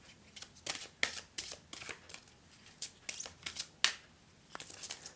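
Oracle cards being shuffled in quick, crisp bursts of riffling and flicking, close and fairly soft, with short pauses between handfuls and no talking.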